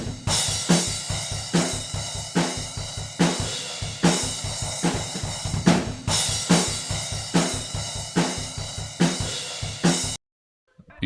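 Room microphone sample layered onto a metal-style drum kit, a steady, fast pattern of kick and snare hits with crashing cymbal washes, loud and roomy, stopping abruptly near the end.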